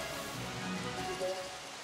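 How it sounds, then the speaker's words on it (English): Steady rain falls in the video game Indivisible, a soft continuous hiss of drops on surfaces that holds at an even level, with a few faint tonal game sounds drifting over it. "Oh, it's raining now"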